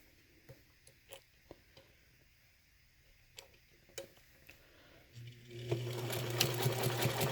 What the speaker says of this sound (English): sewing the inside panel piece about 1/8 inch in to the pocket